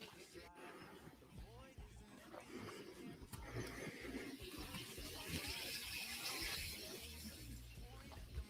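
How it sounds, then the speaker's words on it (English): A bell siphon gushes water out in a rushing, splashing flow that swells and stays strong, with a voice talking over the outflow. "When this bell siphon is activated, it starts blasting water out"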